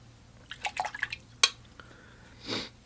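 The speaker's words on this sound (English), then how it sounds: "rinse off the brush, dry it off on the tissue a little bit" A watercolor brush is swished and tapped in a water cup, giving a quick cluster of small drips and clinks, a sharp knock, then a brief soft splash, all faint and close.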